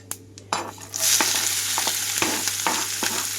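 Chopped onions and green chillies hit hot oil in a pan with chana dal, setting off a loud, steady sizzle, while a spoon scrapes and stirs in a few distinct strokes.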